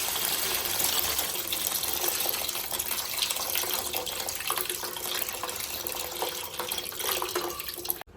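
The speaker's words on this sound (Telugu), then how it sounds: "మనం ముందుగా పిసికి పెట్టుకున్న చింతపండు పులుసు పోసుకుందాం" Tamarind juice pours steadily into a fish and vegetable curry pan, a continuous close splashing liquid flow lasting several seconds without talk.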